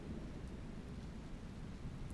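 Rain falling steadily through a wet town scene, with a low, continuous rumble of thunder running beneath it. The ambience is even and moderately quiet, and no one speaks.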